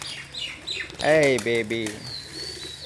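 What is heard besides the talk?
pigeons at a pigeon market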